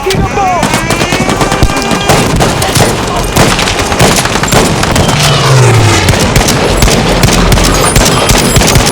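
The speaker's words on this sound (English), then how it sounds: "Chucking a bomb!" A thrown bomb goes off in Battlefield 5 amid a dense, loud stretch of constant gunfire and explosions, with a heavy boom falling in pitch partway through the chaotic battle noise.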